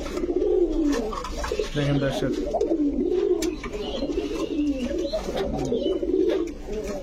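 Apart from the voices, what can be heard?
Gobinda kaka pigeon cooing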